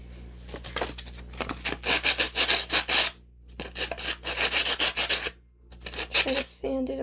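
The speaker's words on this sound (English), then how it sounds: "Try to sand it a little more." Sandpaper rubs steadily against a painted glass bottle in rhythmic back-and-forth strokes, loud and close, with two short pauses between sanding bursts.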